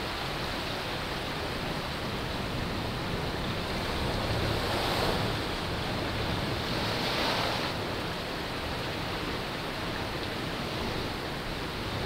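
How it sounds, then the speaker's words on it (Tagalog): Heavy surf roars steadily, a dense wash of crashing waves with wind rushing across the microphone, no voices. "Talagang umaragasa ang tubig. Naglalakihang mga alon."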